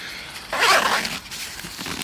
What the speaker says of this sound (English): It now has a 2-way zip, so you can actually just break open that vent.